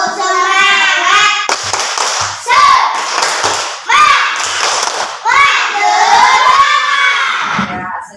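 Schoolchildren in a classroom doing the tepuk semangat clapping chant, loud bursts of shouted syllables alternating with rhythmic group clapping, close and lively over several cycles.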